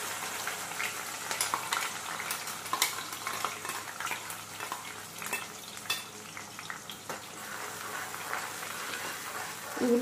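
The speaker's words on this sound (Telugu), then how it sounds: "ఈ ఉల్లిపాయ పేస్ట్ కొంచెం పచ్చి వాసన పోయేదాకా వేయించడం" Onion paste frying with curry leaves in oil for chicken curry, a dense continuous sizzle with scattered crackles and occasional clinks of a stirring utensil against the pan.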